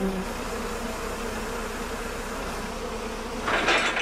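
Honeybees buzz around hives at a leatherwood honey site, a steady continuous drone with a brief louder burst near the end and no talking.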